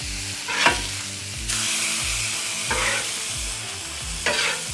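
Pork belly fries in hot grease with a continuous close sizzle, broken by several louder scraping bursts as the meat is stirred or moved in the pan.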